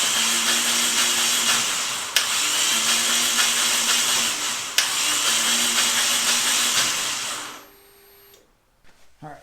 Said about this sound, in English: Make sure that everything sounds okay as it's cranking and cranking and cranking.